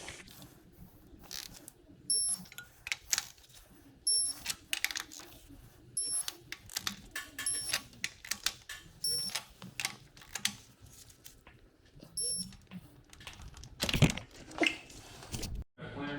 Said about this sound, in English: we're going to tighten all these retaining nuts down to 44 inch-pounds, or 44 foot-pounds, I'm sorry, with our 24 millimeter socket.